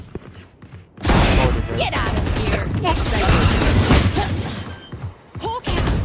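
Grenade blast and rapid gunfire in the Valorant shooter, a loud burst that stays dense and continuous for about five seconds with sharp shot transients, while players call out over it.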